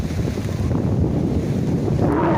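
Strong wind buffets the microphone at a seaside shelter in light rain, a steady loud rush with waves and surf blending into the roar throughout.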